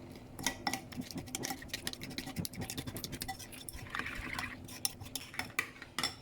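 A spoon stirs chicken kurma with ground black pepper in a pot, making quick, irregular clinks and scrapes against the metal along with soft wet patter. The sound is close and moderately quiet, with no talking.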